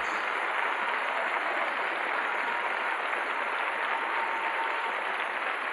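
Opera audience applauding Luciano Pavarotti after Verdi's Ernani, a continuous, even wash of distant clapping from a large hall that holds steady at moderate level from start to finish.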